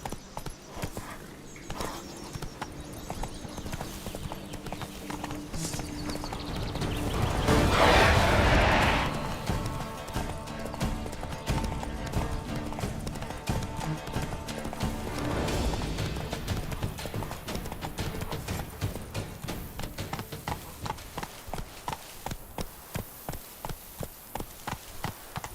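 Steady clip-clop of a horse's hooves galloping in the video game The Witcher 3, rhythmic and close, with a swell of louder rushing noise midway and no talking.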